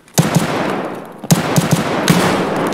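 Gunfire in the shooter game Escape from Tarkov: three loud, sharp reports about a second apart, each trailing into a ringing echo and rumble.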